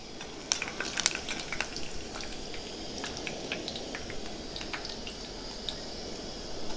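Coriander seeds and peanuts sizzling in hot oil for a Telugu tomato roti pachadi, a steady low frying hiss dotted with sharp crackles and pops, loudest early on, with no talking.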